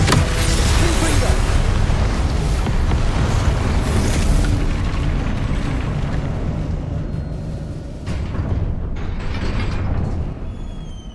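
A Confringo blasting spell explodes in Hogwarts Legacy, a loud, sustained booming roar that fills the clip and slowly tapers off, with game noise and faint voice-like sounds mixed in.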